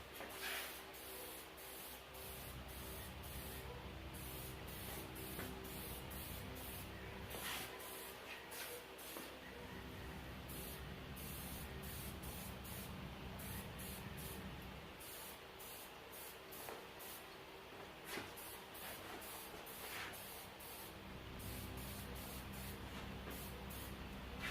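Aerosol or spray-gun paint hisses in long, steady bursts with brief pauses while a Warn 9.5ti winch part gets a light first coat, loud and close with no talking.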